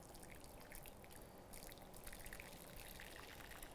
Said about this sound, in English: I'm going to very, very carefully pour my boiling water into my baking dish